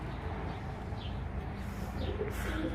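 Game pigeons coo softly in Konya, Turkey, over a steady low rumble, with a few faint bird calls rising above the background.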